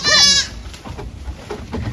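A goat lets out a single loud, wavering bleat up front, followed by softer shuffling and faint background voices.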